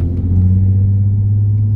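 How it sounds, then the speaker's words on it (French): A Nissan 350Z sports car engine rumbles in a deep, steady low drone while driving gently, loud and close with no speech over it. "vous l'entendez le son du V8 à demi-tour?"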